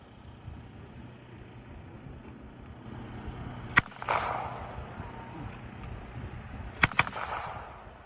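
Sharp cracks from a World War I automatic weapon firing blanks at a reenactment ring out outdoors over low background noise: a single shot, then a quick cluster of two or three.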